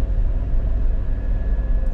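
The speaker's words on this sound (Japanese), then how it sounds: "結構エンジンボーってうなってるからね。" A 2022 Suzuki Jimny Sierra engine drones steadily while driving, a dense low rumble with a faint high whine running through it, loud and continuous with no voices.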